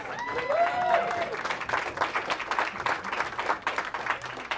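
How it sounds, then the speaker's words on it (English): An audience at a campaign event at The Mill in Iowa City bursts into steady, dense applause that carries throughout, with a brief whistle near the start. "Steve deserves a round of applause"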